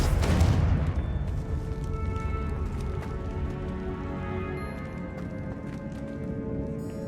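Confringo fire spell blast in Hogwarts Legacy, a loud booming burst at the start that decays into a rumbling tail with scattered crackles and lighter impacts.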